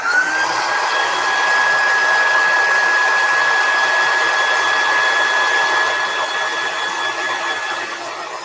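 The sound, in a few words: hair dryer drying chalk paste at the top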